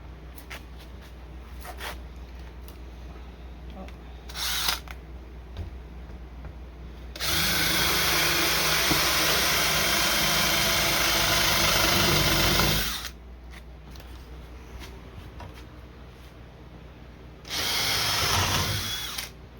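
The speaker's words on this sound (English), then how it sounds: "now we're drilling out the dowels that connect to the bridge so we can remove the bridge easier" Power drill boring out the dowels on a Steinway grand piano bridge, two sustained loud whirring runs of several seconds each, with shorter bursts before and after and quiet gaps between.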